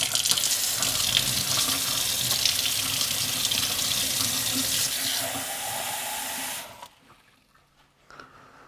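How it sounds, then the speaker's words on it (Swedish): Cold water runs from a kitchen tap in a steady hiss for several seconds, shifting tone as it fills a glass, then shuts off into near silence. "Lite skönt kranvatten här nu."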